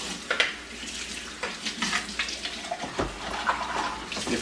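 Water from a tap splashes and rushes irregularly as detachable milk frother parts from a Philips 3200 Series espresso machine are rinsed, with clatters of handled pieces at close range.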